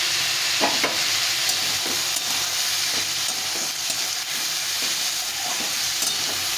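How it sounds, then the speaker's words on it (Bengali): Vegetables sizzle loudly and steadily in a hot pan seasoned with salt and turmeric, a dense continuous frying hiss with occasional stirring scrapes, no voices. "লবণ হলুদ দিয়ে সবজিটা ভেজে নিয়েছি"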